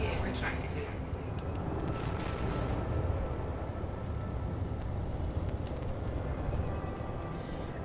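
A spaceship in the Elite Dangerous video game flies just after its landing gear retracts, giving a broad, steady roar of thrusters with a deep rumble and brief higher tones on top.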